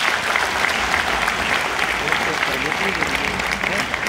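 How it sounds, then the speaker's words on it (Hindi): A crowd at a Maharashtra political event applauds loudly after Chief Minister Devendra Fadnavis finishes his speech, a thick, steady wall of clapping with no break, close and full. "जोरदार तालियां हो जाए।"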